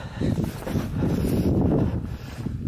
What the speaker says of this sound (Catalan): està fent unes ràfegues de vent.